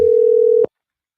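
A steady telephone dial tone holds loud and alone for about half a second before cutting off abruptly, with a brief click at the end.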